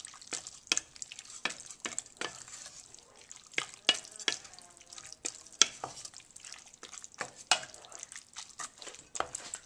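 Diced tomatoes with green chilies from a can being mixed in a pan with a spoon, giving irregular scraping and wet clicking strokes, fairly close and moderately quiet, with no talk.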